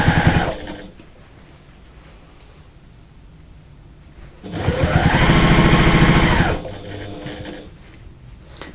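Domestic sewing machine stitching a bag seam with a half-inch seam allowance, a loud steady motor whir of about two seconds near the middle, with quieter handling noise before and after.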